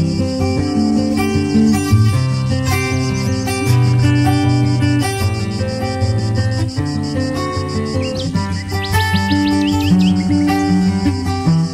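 Ruby-throated hummingbirds in a backyard give rapid, high chirps and twitters that repeat steadily throughout, some close and bright and others softer, set over a dense layer of other birdsong and insect sound.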